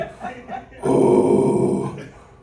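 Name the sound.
man imitating silverback gorilla noises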